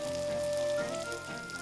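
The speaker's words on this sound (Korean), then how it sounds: "지글지글 고기 익는 소리도 입맛을 당기지만" Meat sizzles steadily on a grill at a minari farm restaurant inside a greenhouse, a continuous close frying crackle with a faint tonal hum underneath and no talk.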